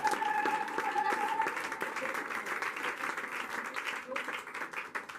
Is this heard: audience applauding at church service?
yes